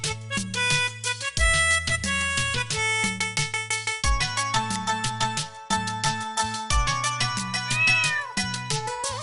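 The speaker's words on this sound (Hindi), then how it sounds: "म्याऊं म्याऊं म्याऊं म्याऊं, बिल्ली करती म्याऊं।" Repeated sung cat-like meows from a Hindi children's nursery rhyme ride over a bouncy, tuneful musical backing, loud and rhythmic throughout.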